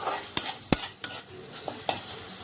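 Fish curry masala frying and being stirred in a pan, soft sizzling under a few sharp clinks and scrapes of a spoon against the pan, close and fairly quiet.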